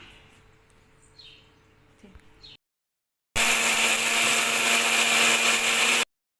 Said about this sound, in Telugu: నేను ఇప్పుడు ఈ పప్పులన్నీ గ్రైండర్కి వేసుకుంటున్నా.